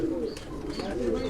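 Bateray breed pigeons from Sialkot stock coo in a low, continuous murmur, heard up close with faint background noise throughout.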